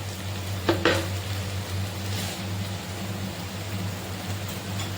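Tomatoes fry in a pan with chili and coriander powder for a crab roast, giving a soft, steady sizzle, with a couple of brief stirring clatters near the start and no talking.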